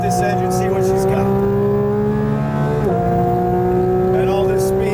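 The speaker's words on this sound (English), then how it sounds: "Let's wind up this engine, see what she's got." Porsche 992 GT3 on a race track, its engine winding up loud and close through rising revs with a quick gear shift mid-pull, then climbing again.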